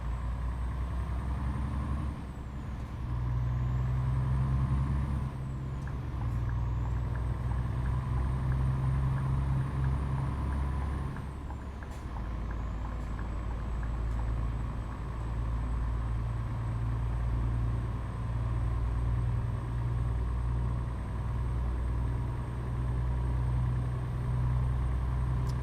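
Lorry cab interior while pulling onto a motorway, with a steady low engine drone and road rumble throughout, a rising gear-change whine and brief pneumatic hiss, no talking.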